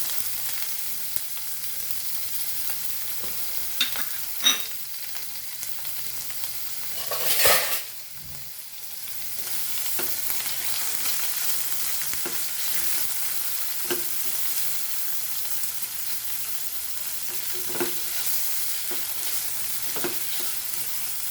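Chilies and onions sautéing in a pan, a steady, fairly quiet sizzle that continues throughout, with a brief louder hiss near the start and occasional light scrapes and taps of a utensil, and no talking.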